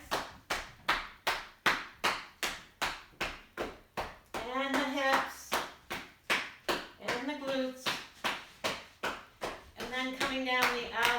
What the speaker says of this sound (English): All the way down and clap your feet.